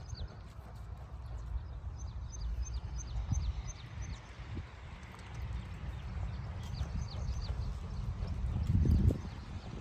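Horse hooves clip-clop across an arena during barrel race practice with a new student rider, a steady near drumming under faint birdsong, building louder toward the end.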